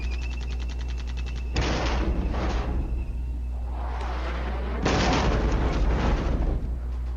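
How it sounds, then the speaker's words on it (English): Explosions in a modern military strategy game battle arrive as two loud, crashing bursts, each followed by a rumbling decay, with quieter distant booms in between. "Several more explosions."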